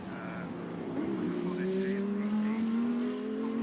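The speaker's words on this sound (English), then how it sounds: "Matteo Drudi comes down Cooper Straight and brakes, turns into Surtees." A GT race car brakes into the Surtees corner at Brands Hatch during qualifying. Its engine note drops and shifts as it slows, rising again through the turn, heard at a distance under a commentator's voice.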